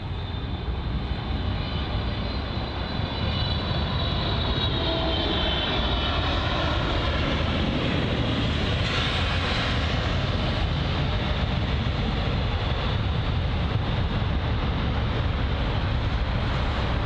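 A large passenger jet lands on a wet runway at London Heathrow, a loud continuous engine roar mixed with a spray-like hiss that swells slightly in the middle and stays steady across the whole stretch.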